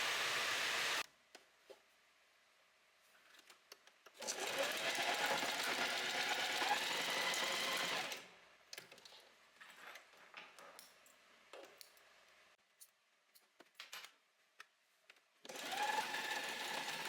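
A home sewing machine stitches fabric pieces together close to the edge, giving a rapid, close mechanical whirr in two long bursts with quiet handling and faint clicks between them.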